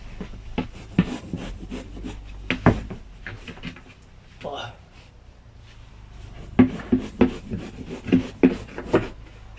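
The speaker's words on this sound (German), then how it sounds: "Und dann schneide ich halt mit kurzen, schnellen Bewegungen." A knife cuts through mineral wool roof insulation in short, quick strokes, giving scratchy, rasping bursts in two clusters with a quieter pause between them.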